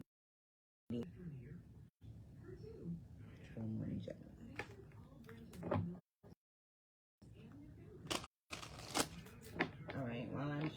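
Soft riffling and slapping of tarot cards being shuffled in bursts, close and quiet, with brief pauses between rounds.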